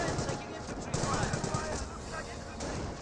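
A jeep fires rapid bursts at Panzer Grenadiers in the World War II strategy game Company of Heroes, dense crackling gunfire mixed with battle noise, while a commentator talks over it.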